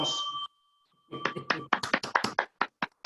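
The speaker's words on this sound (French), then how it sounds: "Les applaudissements, mesdames et messieurs." Two show hosts clap for themselves after a short spoken line, a scattered burst of a dozen or so close, dry claps that fade out unevenly.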